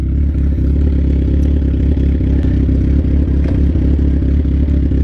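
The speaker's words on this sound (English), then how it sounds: "this exhaust is pretty loud" Sport bike with a loud straight-pipe exhaust idling, a deep, steady, rapid-pulsing engine rumble, close and loud throughout without revving.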